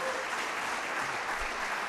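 An audience at a city council update event claps steadily for two seconds, a dense, even wash of applause with no pauses.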